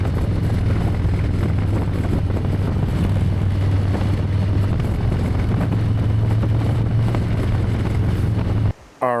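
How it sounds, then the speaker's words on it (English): Strong wind roars across an outdoor microphone beside a 2023 Harley-Davidson Low Rider S, a constant loud rumbling buffet with a low drone, cutting out briefly near the end. "apologies first if it's really windy in the background. It started getting windy out of nowhere."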